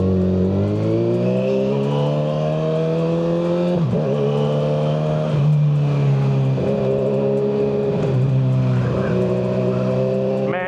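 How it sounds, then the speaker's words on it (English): A Kawasaki ZX6R sport motorcycle fitted with a Yoshimura slip-on exhaust revs continuously, its close, loud engine note climbing and dipping with on-off throttle blips, with no talking. "Sounds like a whole different bike. I mean, we do got the Yoshiumura on there now, so of course it's going to sound a little different"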